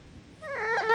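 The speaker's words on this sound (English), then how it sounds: "Do you hear my dog?" A pet dog whimpers, starting quietly and then rising into a loud, high, wavering whine near the microphone.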